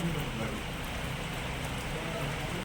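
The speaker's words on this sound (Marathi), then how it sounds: "खूप जोराचा पाऊस" Steady, dense downpour of heavy rain hissing on surfaces at a village fair, continuous and loud, with faint voices underneath.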